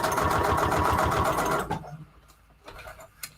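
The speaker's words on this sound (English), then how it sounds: "I'm just going ahead and just going to sew across it. Just a simple corner to corner." A sewing machine stitches corner to corner across a paper envelope in a fast, even run of needle beats, close and loud, before stopping abruptly and leaving faint handling noises.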